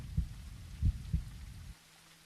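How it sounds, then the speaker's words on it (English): A low, muffled heartbeat thuds in the horror video game The Other Side, three deep thumps, the last two a close double beat, over a faint ambient hiss before the sound cuts to near silence. "Oh god, I hear a heartbeat."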